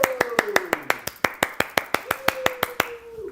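Onstage at a business conference, a speaker claps his hands in a steady, brisk rhythm of about seventeen sharp, close claps, while a voice speaks faintly in the background.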